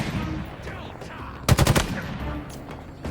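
Jackal sniper rifle fire in Halo, a rapid burst of sharp shots clustered around the middle of the clip over a faint game background.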